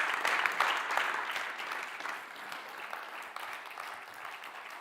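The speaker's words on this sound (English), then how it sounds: "But can we have a big round of applause?" An audience at an evening storytelling event gives a big round of applause, a dense, sustained wash of clapping that starts strong and eases slightly toward the end.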